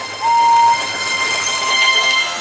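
A steam locomotive puffs through open countryside, a steady broadband rumble and hiss with a clear whistle tone sounding early on, fairly close and continuous throughout.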